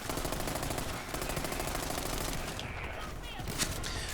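Hellfire gun in Borderlands 3 firing at enemies, a steady rapid stream of automatic shots that stays loud from start to finish, with slight thinning near the end.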